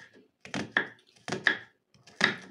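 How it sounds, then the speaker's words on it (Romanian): Knife blade chopping a peeled onion finely on a board, a few separated firm knocks in small clusters, close and moderately loud with no talk. "Între timp am curățat ceapa și acum o voi tăia"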